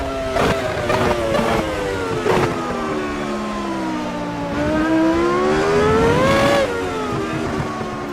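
Michael Schumacher's 2001 Ferrari V10 screams in AMS2 on a wet track on dry tires. The high engine note rises and falls through repeated revs and gear changes, loud and close, with sharp bursts between sweeping pitch climbs.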